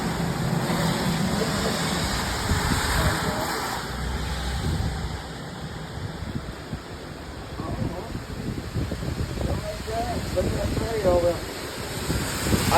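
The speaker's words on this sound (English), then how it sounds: "the wind is starting to pick up" Strong wind picking up ahead of a tornado storm in Missouri, gusting and rumbling hard against the microphone in a steady loud roar, with a faint voice underneath.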